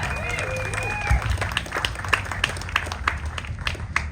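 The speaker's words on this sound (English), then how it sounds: "Give him a round of applause." An evening audience at a Cosworth event applauds as the company's managing director is introduced, with a moderate, scattered patter of claps, a brief whistle near the start and some crowd voices.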